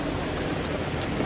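Steady rain near a beach boardwalk in Atlantic City, falling as a continuous broadband hiss of drops on surfaces, close and even throughout with no talk.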